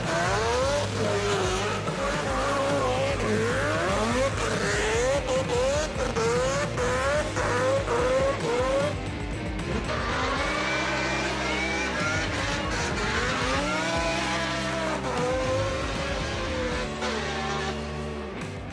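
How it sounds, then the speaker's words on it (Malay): Drift cars in a tandem drifting session howl and rev at high revs, engine pitch climbing and dropping in repeated sweeps as they slide through corners, loud and nearby with tire noise mixed in. "Dan ini memberikan kelebihan kepada Fusing untuk menguasai sesi tandem yang pertama."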